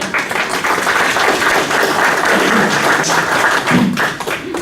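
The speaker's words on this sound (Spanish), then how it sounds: "Un fuerte aplauso, por favor." Steady applause from a crowd at a lecture, many hands clapping together in a dense, continuous patter with a few louder thumps.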